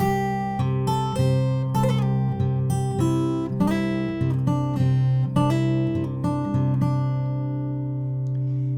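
Fingerpicked guitar plays an intro: a steady, even flow of plucked notes over a ringing low bass, close and clear, continuing without pause for several bars. No voices.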